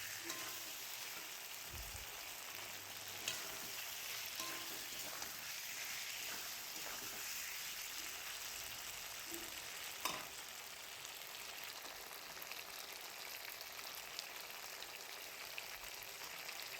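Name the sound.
sautéing boiled taro and potato in spice paste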